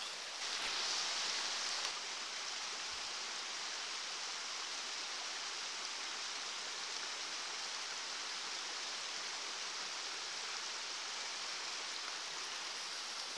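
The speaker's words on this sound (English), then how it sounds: "she traverses the icy death stream called Seneca Creek in February" Icy water flows in Seneca Creek in February, a steady, broad rushing hiss of a stream heard close up and continuous, with no speech.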